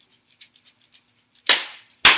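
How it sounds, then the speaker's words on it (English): Hand claps at a family drum circle, a few light, quick claps followed by two sharper, louder claps close by. "So let's begin with a clap,"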